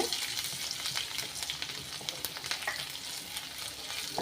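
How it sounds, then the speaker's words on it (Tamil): Finely chopped garlic sautés in hot oil, a soft, continuous crackling sizzle with light stirring touches, fairly quiet and without speech. "பூண்டை நல்லா வதக்கி எடுத்துக்கோங்க"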